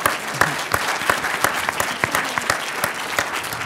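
Applause at an energy technology pitch event after a presentation, a crowd clapping steadily with distinct individual claps popping through, close and uninterrupted for a few seconds.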